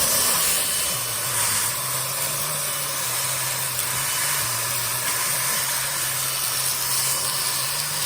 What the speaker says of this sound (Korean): 이거 같은 경우에도 청소기 이용해서 다시 다 빨아들여 주세요.